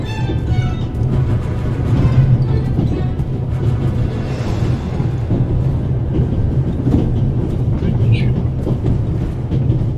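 A train rumbles along in The Raven video game with a loud, continuous clatter and low drone throughout, and a brief high squeal partway through.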